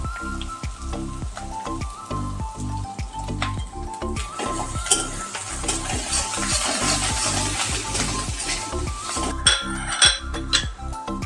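Sliced onions frying with sugar in a pan for katla fish kalia, a steady loud sizzle beneath rhythmic spatula scrapes and clinks against the metal, close up with no voices.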